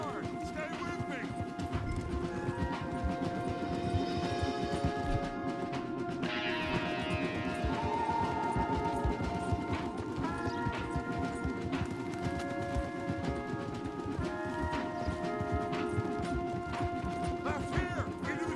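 Horses galloping in the Red Dead Redemption 2 video game, with rapid clip-clop hoofbeats running continuously beneath loud character talk and game music.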